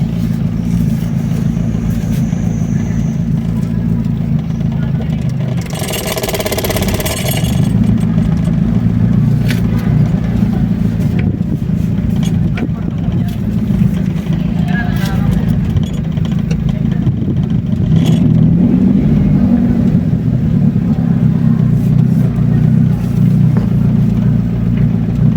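A car engine running while driving, a steady low hum with a brief louder surge partway through, continuous and close throughout with no talk.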